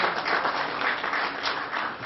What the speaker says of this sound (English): I'd like you to give him a big round of applause.